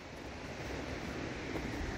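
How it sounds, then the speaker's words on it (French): Steady broadband rushing of water, a continuous wash with no pauses, fairly loud and close, like a river flowing just below. "On entend la rivière en dessous."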